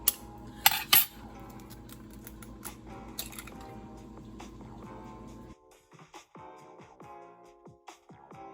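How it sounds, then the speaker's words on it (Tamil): Eggs cracked against a bowl and poured in while making egg kurma, with a few sharp taps early on, then soft clinks and wet plops of shells and egg in a home kitchen, fairly quiet and without talk. "எல்லா முட்டையும் இந்த பவுலில் உடச்சி ஊற்றிக்கலாம்."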